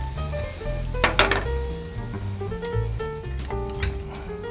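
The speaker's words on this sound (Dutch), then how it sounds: "De spekjes bakken hebben ook meteen al vet in de pan." Small bacon pieces frying in a pan give a steady crackling sizzle, with occasional stirring scrapes, heard under music playing throughout.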